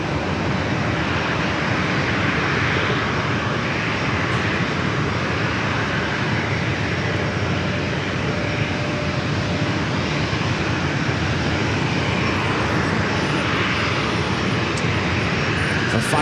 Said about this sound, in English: We have another heavy on the way in, UPS Flight 2636, coming up from Louisville, Kentucky, 767-300ER.